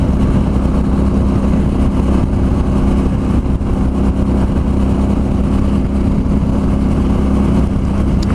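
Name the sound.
motorcycle riding on a California freeway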